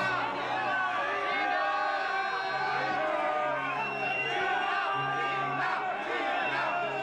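A large admiring crowd at the Cannes Film Festival, 1997, cheers and calls out for Gina Lollobrigida, a steady dense hubbub of voices and whoops with someone commentator speaking over it.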